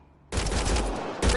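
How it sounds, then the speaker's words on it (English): Gunshots in Mass Effect Andromeda: a loud burst of rapid fire begins abruptly and holds for about a second, then a second sharp volley follows close up. "They shot him!"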